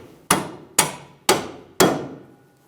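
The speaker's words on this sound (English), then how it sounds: "So you may have to do some wiggling with a punch on the other side to get that second bolt in. And then tap it the rest of the way." Four sharp metallic hammer taps strike a bolt while seating a rear strut mount on a 2002-2006 Toyota Camry, evenly spaced about half a second apart, close and ringing briefly after each blow, with no talking.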